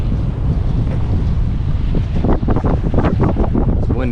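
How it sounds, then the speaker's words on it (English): Strong wind buffets the microphone at a quiet pier boat dock, a loud steady rumbling roar with water lapping underneath, and a few faint voiced sounds near the end. "It's windy as shit today, y'all."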